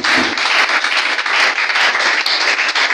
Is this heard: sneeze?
no